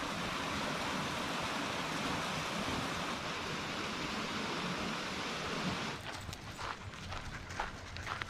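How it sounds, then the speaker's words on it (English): A small creek flows beside cabins along a campground road in Oregon. The water rushes softly and evenly, then thins after about six seconds into quieter trickling with light clattering sounds, and no voices are heard. "It has a little creek."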